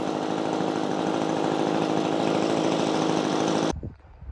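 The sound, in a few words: Echo PB-2520 leaf blower engine revving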